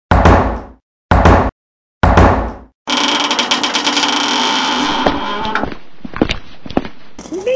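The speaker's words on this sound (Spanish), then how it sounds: "Llama a la puerta." Three loud, close knocks on a door come in separate bursts, followed by a sustained clattering, mechanical noise that tapers into scattered clicks and bumps.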